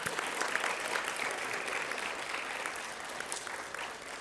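Steady applause from the audience at an intercultural learning certificate graduation ceremony, a dense even wash of many hands clapping at moderate distance for about four seconds.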